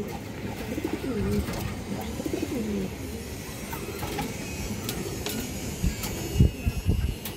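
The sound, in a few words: pigeons cooing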